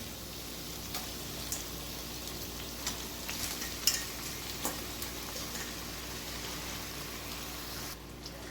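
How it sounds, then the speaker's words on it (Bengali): A steady, quiet crackling sizzle of chicken pieces frying in a pan with ground spice paste, with occasional soft scrapes and clicks, no voices. "চিকেনের সঙ্গে আবার কিছুক্ষণ ভাজতে হবে"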